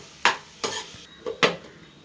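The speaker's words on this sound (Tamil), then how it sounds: "இப்போது நம்ம 2 கிண்டு கிண்டிடுறோம்" Tomato thokku gets stirred in a pan, four distinct spatula scrapes over a faint sizzle, each stroke crisp and close.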